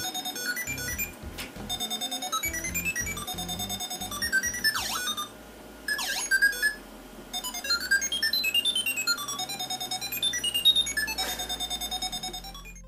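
Electronic beeping notes and sliding tones from a Clyde robot lamp as its legs are moved, playful melodic blips and swoops in bursts over a low buzzing bass, close and alone.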